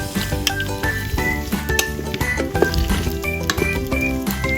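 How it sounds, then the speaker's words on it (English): Tofu slices pan frying in oil and salt inside a preheated electric rice cooker, giving a continuous close sizzle with soft crackles, while music plays loudly over it throughout. "pan fry the tofu slices until golden brown"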